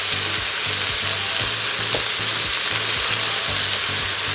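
Chopped cabbage and smoked paprika sizzling hard in a hot Instant Pot, a loud steady frying crackle with rhythmic scraping stirs pulsing through it, close and continuous with no talk.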